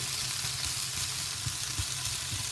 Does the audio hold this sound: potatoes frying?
yes